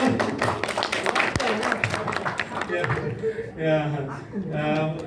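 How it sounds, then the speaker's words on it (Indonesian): Lively clapping from a small audience at a group presentation rattles for about three seconds, close and uneven, then gives way to people talking and laughing. "tepuk tangan yang meriah dulu"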